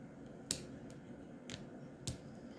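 Scissors snip yarn during crochet work, giving a few quiet, crisp clicks spread over a couple of seconds, with faint handling noise between them.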